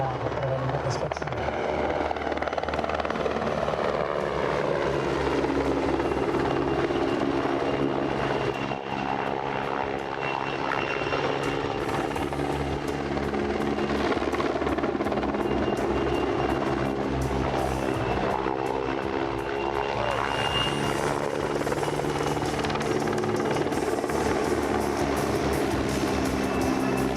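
A rescue helicopter flies a demonstration at the 2024 Pardubice airshow in poor weather. Its loud, continuous rotor and engine roar fills the whole stretch while a commentator speaks over it.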